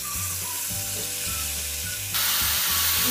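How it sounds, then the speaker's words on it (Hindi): Marinated chicken frying in two to three spoons of mustard oil, a steady loud sizzle with stirring scrapes throughout, brightening and intensifying sharply partway through. "इसे 5 से 6 मिनट कंटिन्यू भूनते रहें।"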